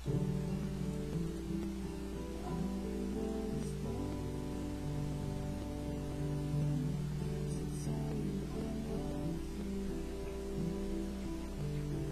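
Guitar chords from the bridge of a song strummed softly over a steady background hiss, the chords ringing and blending together at moderate volume with no talking.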